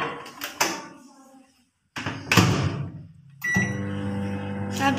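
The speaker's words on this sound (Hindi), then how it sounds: "हम इसको आम ओवन माइक्रोवेव ओवन में रखेंगे।" A home microwave oven heats a homemade cheese pizza: a few clunks and thuds from the door closing, a brief quiet, then a steady, close electrical hum as the oven runs.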